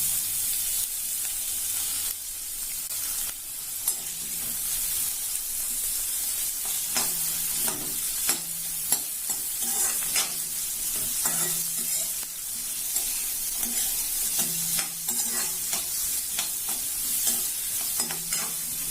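Sliced onions and garlic sizzle steadily in hot oil in a pan, with a constant bright hiss and repeated scraping stirs of a spoon, close and fairly loud throughout.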